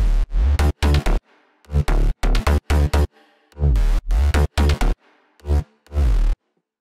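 Layered bass of a future house track, stacking a sub bass, a mid bass and a sharp-attack bass, plays loud, short, punchy stabs in a choppy rhythm separated by silent gaps.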